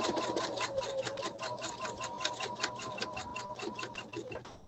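A sewing machine runs steadily during free motion quilting of fabric, its needle hammering out a fast, even train of stitches for several seconds before easing off near the end.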